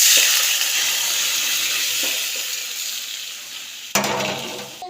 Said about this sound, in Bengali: এবার সেটাকে নাড়াচাড়া করতে লাগলাম।